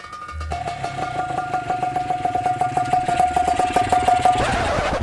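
A motorcycle engine starts and idles nearby, a loud rhythmic chugging with a steady whine that speeds up slightly toward the end, with no voices.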